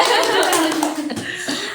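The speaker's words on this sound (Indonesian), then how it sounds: "Kita tepuk tangan." A small group claps together on a podcast set, mixed with chuckles and laughter and some overlapping talk, fairly close and lively.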